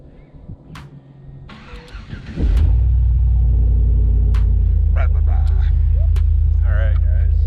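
A pickup truck engine cranks and fires up on a 21-degree snowy morning, settling into a loud, steady rumbling idle close by, with a few brief clicks and a voice speaking before the start.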